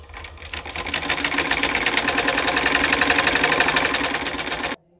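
Electric sewing machine running steadily while stitching a suit (kameez), a fast continuous whirring rattle close by that runs almost five seconds and then stops abruptly.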